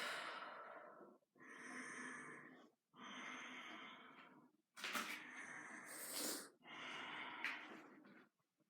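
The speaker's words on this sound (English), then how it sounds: "nice long deep breaths in and out" Long, deep breaths in and out during a yoga practice, slow and close, each inhale and exhale drawn out with brief pauses between them.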